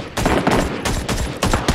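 Bursts of rapid gunfire in the shooter video game Ring of Elysium, loud and close, coming in several clustered volleys separated by brief gaps with no talking.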